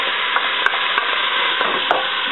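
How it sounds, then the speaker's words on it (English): Bacon fat frying in a pan makes a close, steady crackling sizzle, with a few sharper pops and stirring clicks breaking through. "I decided to start with that and let it fry up a little bit."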